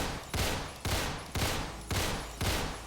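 A machine pistol fires in Roblox Phantom Forces: five sharp shots spaced evenly about half a second apart, each one loud and close with a short decaying tail, and no talking.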